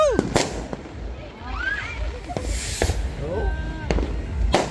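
New Year fireworks explode in a town plaza as a string of loud, sharp booms and crackles spaced through the scene, with whistling rockets between them and a brief exclamation from someone nearby.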